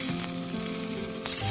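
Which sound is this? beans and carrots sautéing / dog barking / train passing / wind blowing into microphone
beans and carrots sautéing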